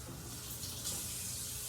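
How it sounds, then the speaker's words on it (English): Running tap water splashes steadily into a sink while a fresh bigeye tuna steak is rinsed, a continuous close hiss with no talk. "You definitely should wash your hands and wash the meat before it gets in the pan."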